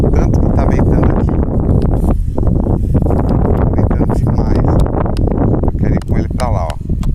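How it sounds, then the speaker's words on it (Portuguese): Strong wind buffets the microphone outdoors during a windy first test flight of a KG 102 drone, a loud continuous rumbling roar with gusty surges, while someone talks over it. "Tá ventando demais, gente. Tá ventando muito."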